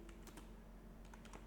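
Typing on a computer keyboard during a WordPress tutorial, quiet irregular clicks in short bursts over a low steady background hum, with no speech.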